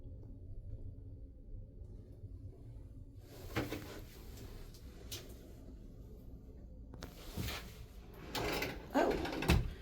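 A drawer in a cruise ship cabin slides open with a few rattling, sliding scrapes and clunks, faint and close, amid low room hum.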